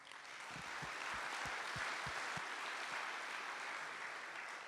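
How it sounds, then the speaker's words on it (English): An audience at a talk on the Fall of Saigon and its aftermath gives a sustained round of applause, with a steady, even wash of many hands clapping at moderate volume. "So if you'll join me in giving them a round of applause."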